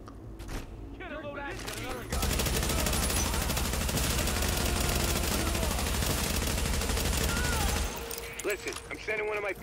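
Automated turret in The Division video game fires a sustained, dense burst of rapid gunfire lasting several seconds, loud and continuous, with brief game noises before and after.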